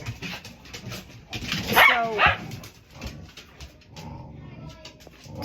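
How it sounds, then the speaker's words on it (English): Two loud dog barks ring out close by, followed by quieter whimpering and faint yips. A voice briefly speaks near the start. "Whenever I want to film, the dogs just decide that they want to be noisy."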